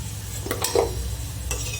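Muthiya dumplings made with chana and spinach frying in hot oil, giving a steady soft sizzle with a few brief stirring clinks and scrapes, close by and moderately loud, with no voices.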